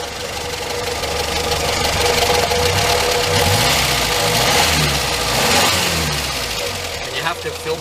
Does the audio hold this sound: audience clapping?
no